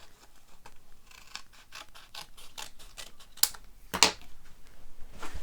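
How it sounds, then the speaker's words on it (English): Scissors snip through designer series paper for a Christmas card, with a series of soft, close crisp snips and two sharper cuts near the end. "get a pair of scissors and cut a sort of snow drift across the top"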